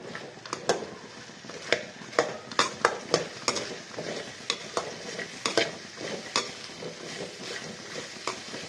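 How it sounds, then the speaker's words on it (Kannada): Okra pieces fry in about three tablespoons of oil in a pan, a continuous close sizzle punctuated by frequent scraping stirs and light clinks, without any voices. "ಈ ಬೆಂಡೆಕಾಯನ್ನು ಸ್ವಲ್ಪ ಫ್ರೈ ಮಾಡ್ಕೊಳ್ಳೋಣ"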